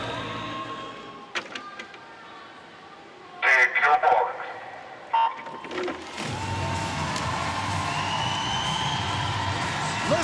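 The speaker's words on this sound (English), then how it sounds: "Listen to the crowd here in the Duna Arena." Crowd at the Duna Arena swimming venue in Budapest during an International Swimming League meet, a steady roar of spectators that swells louder midway, with a commentator talking over parts of it.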